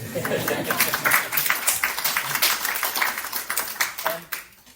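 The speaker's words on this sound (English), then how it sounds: "I think it was almost a round of applause there." An audience applauds with dense, steady clapping at a public economics discussion on ending austerity, moderately loud, tapering off near the end.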